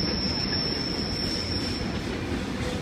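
Several Pacific National NR class diesel locomotives, one in Indian Pacific livery, haul a train past at Homebush, a loud, steady roar of rolling wagons with a thin high wheel squeal running throughout.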